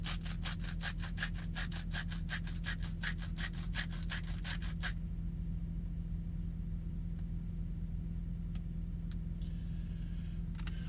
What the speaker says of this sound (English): So what I'll do is I'll grind it.